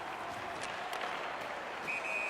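In the NHL 19 hockey video game a referee's whistle blows a sharp, thin high tone near the end, heard over steady arena crowd noise at moderate level.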